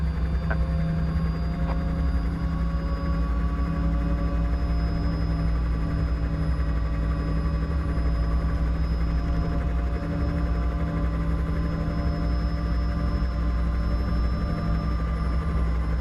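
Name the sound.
helicopter engine powering up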